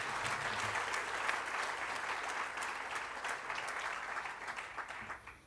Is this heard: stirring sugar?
no